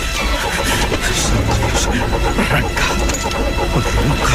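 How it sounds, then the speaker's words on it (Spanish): A flooded car engine is cranked hard and won't catch, a loud, harsh squealing grind that runs without a break, with bursts and rattles throughout. "le hicieron arrancar el coche"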